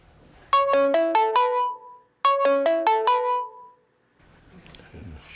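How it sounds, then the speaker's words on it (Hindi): A phone ringtone chimes in two bursts of quick descending tones, loud and close, followed by quiet rustling and faint voices. "फोन ही अटेंड नहीं कर रहे।"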